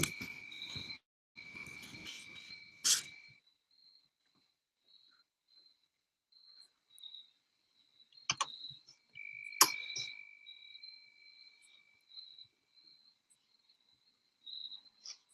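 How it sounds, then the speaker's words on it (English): Crickets chirp outdoors at night, thin high trills that come and go in short, uneven bursts against near silence, with a couple of sharp nearby knocks and rustles breaking in midway. "Maybe it'd shut up the fucking crickets,"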